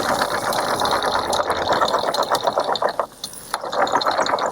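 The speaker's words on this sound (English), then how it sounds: "Reverse idle is good." Boat engine idling in reverse while the hull sits stuck in mud: a steady, close mid-pitched mechanical drone with a rattly texture, briefly dipping near the end before resuming.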